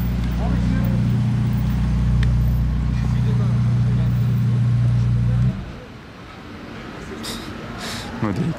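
A Ferrari SF90 hypercar pulling away in Monaco: a steady low engine hum that cuts off abruptly partway through, leaving quieter street ambience, with voices talking over it.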